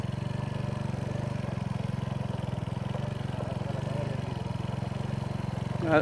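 Steady low rumble of a motorcycle engine while riding in Kirankulam, Batticaloa, a constant droning hum throughout with a brief louder surge at the very end.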